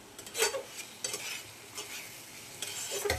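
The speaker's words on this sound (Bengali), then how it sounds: "এবার চিকেন কষার জন্য মশলা কষানো হচ্ছে" Spices being stirred and fried in a pan for Bengali chicken kosha, with soft scraping strokes of the spoon and a light sizzle, close and moderately quiet.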